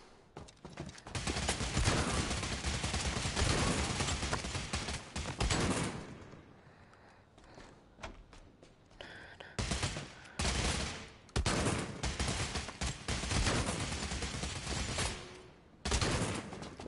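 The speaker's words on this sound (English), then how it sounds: "A very, like, high-range shotgun" Heavy shotgun fire in the Bravo Team VR shooter game, loud, dense bursts of blasts with short lulls between volleys.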